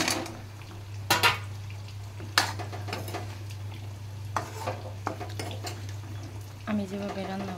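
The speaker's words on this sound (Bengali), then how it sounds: "এখানে আমি এই লাউগুলো ঢেলে দেব।" Bottle gourd pieces tipped into gravy in a pan and stirred, with a few sharp spoon-on-pan clanks over a steady low kitchen hum and soft scraping in between.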